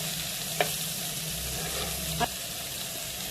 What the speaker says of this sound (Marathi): अस्सल गावरान पद्धतीने ही मच्छी फ्राय केलेली आहे.